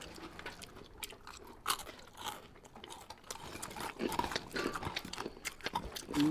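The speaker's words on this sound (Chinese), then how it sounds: "这个馕炸的非常脆啊，吃进去嘎嘣脆的" Crispy deep-fried naan stir-fried with roast lamb, Xinjiang style, is chewed up close, giving irregular crunches and bites that grow denser and louder toward the end.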